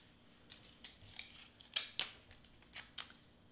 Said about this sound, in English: I'm gonna tape this over here